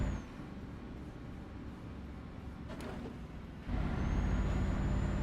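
A Scania truck in Euro Truck Simulator 2 idles with a low rumble, then a sharp hiss of air brake release cuts in briefly, followed by a louder, fuller engine drone.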